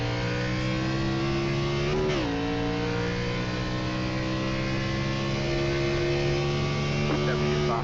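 A race car on the COTA track, Circuit of the Americas, holds a loud, steady engine note that rises under throttle, with a quick shift-like dip partway through and a sustained climbing whine heard close from onboard.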